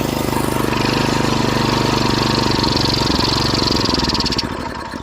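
A choked small engine that has sat too long, with a dribble of fuel added and plugged jets, sputters close up at a fast uneven idle for about four seconds and then cuts out and dies.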